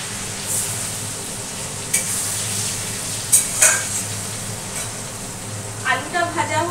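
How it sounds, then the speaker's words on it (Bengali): Potatoes fry and sizzle in hot oil in a pan after eggs and cumin seeds, a steady close sizzle with occasional scraping stir strokes and a brief clatter near the end. "ডিম ভাজার পর দিয়ে দিচ্ছি আলু।"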